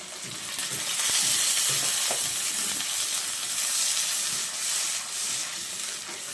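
Tomato paste and ginger-garlic paste fry in a pan, a steady close sizzle with light stirring scrapes and brief clinks running throughout.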